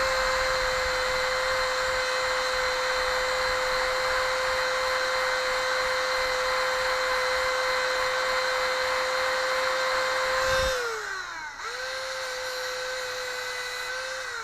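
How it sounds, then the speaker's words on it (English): Dremel rotary tool fitted with a buffing wheel polishing nickel guitar frets, a steady high whine running close and loud without pause, then dipping in pitch briefly near the end before settling back to speed. "I take my Dremel tool with a buffing wheel, and I polish them"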